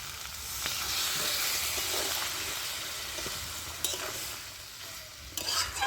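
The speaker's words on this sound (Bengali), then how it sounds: "5 মিনিটের মতো আমি কষিয়ে নেব" Winter vegetables cooking with spices in a pan, a constant close sizzle and hiss with repeated stirring scrapes and a few sharp clinks near the end; no speech.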